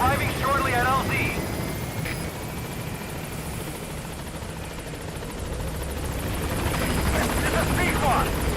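P-Quad helicopter in Metal Gear Solid V arriving at a landing zone, a steady rotor drone holding throughout at moderate loudness, with short radio-style voice chatter near the start and end.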